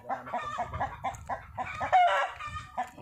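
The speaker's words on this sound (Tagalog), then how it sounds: "Hindi, kumutak na eh." A hen on a farm clucks loudly after laying an egg, a run of repeated squawking cackles close by with other fowl noise in the background.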